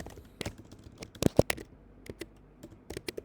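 Keys clack on a computer keyboard in short irregular bursts, with crisp individual keystrokes and a couple of louder taps, heard close and alone.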